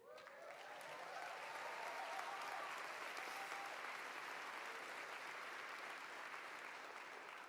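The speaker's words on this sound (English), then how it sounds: "I'm glad to see there are parents and families applauding that line up there too" Sustained applause from parents and families at a university arts commencement, a steady wash of clapping that holds at an even, fairly distant level throughout with no speech over it.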